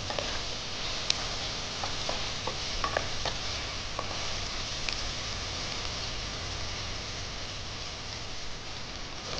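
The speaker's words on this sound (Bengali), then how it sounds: "নুন আর হলুদ গুঁড়োটা দিয়ে একটু আলুটা ভাজা ভাজা করে নেব।" Potatoes frying in a pan with salt and turmeric, a soft continuous sizzle with scattered small clicks and stirring taps, fairly quiet and without talk.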